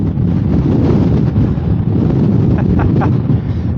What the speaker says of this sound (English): every now and again there are some gusts that almost knock us off our feet